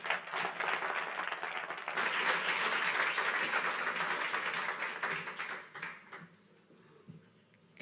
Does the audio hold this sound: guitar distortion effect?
no